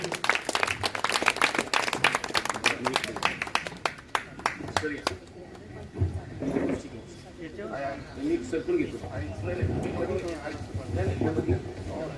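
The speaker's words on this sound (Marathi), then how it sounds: "जोरात टाळ्या डॉक्टरांसाठी." Loud applause for a doctor at a book launch ceremony, dense clapping for about five seconds that thins into scattered claps and murmuring voices.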